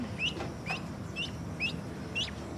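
Ducks give five short, evenly spaced quacks or honks about half a second apart, fairly faint against a quiet room-like background.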